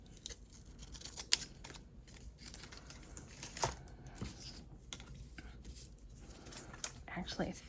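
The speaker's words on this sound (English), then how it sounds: "grab bigger scissors." Large scissors snip through a paper strip with a few crisp cuts scattered among quiet handling noise and rustling, recorded close in a craft setting for book spine cluster strips.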